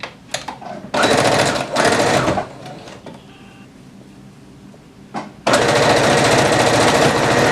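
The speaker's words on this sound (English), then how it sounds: "with the right sides together, we're just going to start at one corner and sew around" A domestic sewing machine stitches dress sleeves onto the bodice in loud, close bursts of rapid mechanical whirring, separated by quieter pauses with light handling sounds.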